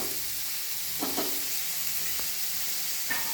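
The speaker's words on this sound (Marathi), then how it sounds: "आता हा टॅमॅटो चांगला शिजला पाहिजे, त्यामुळे त्याला मंद गॅसवरती झाकण ठेवायचं।" Tomato cooking in a pan over a low gas flame: a soft continuous sizzle with a few brief scrapes or clinks scattered through, fairly close and steady, no voices.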